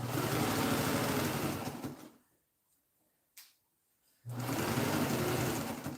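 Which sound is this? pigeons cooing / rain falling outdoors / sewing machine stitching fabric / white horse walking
sewing machine stitching fabric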